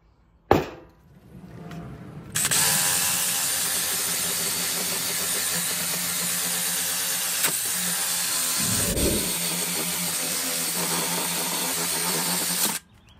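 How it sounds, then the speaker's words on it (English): A power drill bores out the stuck fuel sending unit screws on a Farmall 656 tractor in one long, steady, whining run, close and loud. A sharp knock sounds first, then the drill spins up and holds until it stops abruptly, with no talking. "So I'm drilling out each one of these and we're gonna get this thing popped out."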